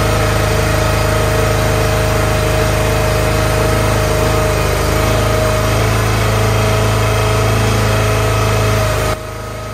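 A Split Force 13/20T firewood processor's engine runs steadily at close range, a loud continuous drone with a constant hum that carries on unchanged, then drops off near the end, with no talk.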